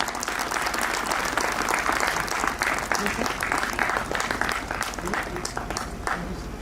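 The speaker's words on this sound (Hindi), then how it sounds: "जोरदार तालियां हो जाएं।" Loud, sustained applause from an audience at an inaugural event for IGL and PNGRB, dense steady clapping filling the whole stretch, with a faint voice underneath.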